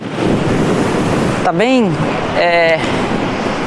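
Steady broadband roar of surf breaking on a beach on a windy, humid, rainy grey day, with gusts buffeting the microphone throughout and someone talking briefly over it.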